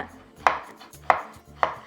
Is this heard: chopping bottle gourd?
yes